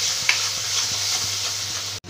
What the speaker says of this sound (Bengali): এই মশলাটাকে আমি ভালো করে এবার কষিয়ে নেব